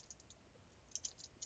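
Faint computer mouse clicks while right-clicking in MotiveWave trading software, a few light taps spread across a quiet moment.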